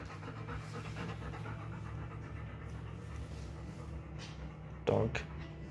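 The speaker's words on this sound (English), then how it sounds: "Dog." A dog pants steadily and rhythmically close by in a server room where cooling fans hum, with a brief louder burst near the end.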